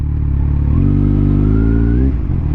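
A Kawasaki Z1000R motorcycle is ridden close up, its engine note rising in a smooth rev for about a second and a half before easing off. The sound is loud and throbbing, with no talking.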